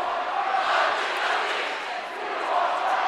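A large crowd in an arena at a girls' state volleyball tournament roars and cheers in a continuous, even wall of noise that swells and dips slightly.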